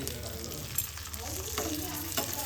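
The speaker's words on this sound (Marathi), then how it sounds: "आणि मी इकडे मासे भाजतोय" Bangda mackerel frying in a pan, a steady close crackling sizzle with a few sharper pops and spatters, a voice faintly present underneath.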